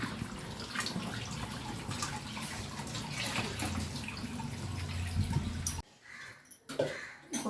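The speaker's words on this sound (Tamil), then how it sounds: "இங்கே வந்து எங்கள் பெரிய பொண்ணு மீன் கழுவிட்டு இருக்காங்க" Fish is washed by hand in water, giving a close, continuous splashing and sloshing that breaks off into quieter drips and a few separate splashes near the end.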